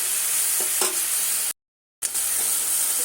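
A paste of ground cumin, chili powder, ginger and green chili fries in a pan, giving a steady close sizzling hiss with a few soft stirring knocks, cut by a brief total silence midway.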